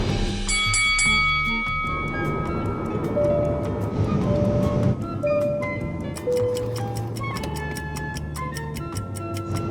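On an Air India plane, a flight attendant call bell gives a bright chime at the start, ringing out over a steady cabin hum with faint ticking clicks afterward.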